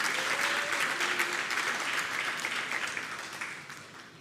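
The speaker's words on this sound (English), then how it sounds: "Can you kindly give them a round of applause, please?" An audience at a school graduation ceremony claps in sustained, dense applause that gradually tapers off toward the end.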